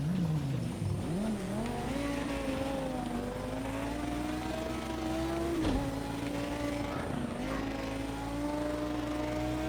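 A Lamborghini racing on a dirt track in a racing video game, its engine droning loud and continuous with pitch sweeping up and down through gear changes and a brief dip mid-run.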